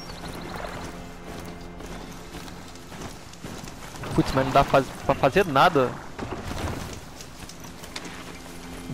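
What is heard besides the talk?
horse hooves clip-clopping in Horizon Zero Dawn video game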